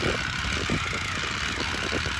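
An old Jiffy ice auger engine runs with a steady, buzzy drone, its throttle creeping up, heard close and loud with no talking.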